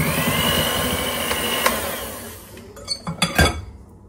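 Yogurt cake batter is whisked in a bowl with an electric mixer whirring steadily at first, then stopping, followed by a few sharp clinks and taps of utensils against the bowl; no speech.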